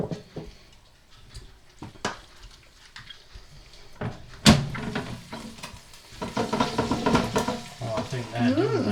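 Meatball ingredients being stirred in a bowl, a mix that includes lemon, for Mediterranean meatballs: soft irregular scraping and squelching strokes close by, growing busier and louder in the second half, with a sharp clatter midway.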